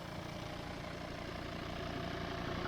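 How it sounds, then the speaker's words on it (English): A car engine idles smoothly and evenly, a low, faint continuous rumble with no revving or voices over it. "It's idling really nicely."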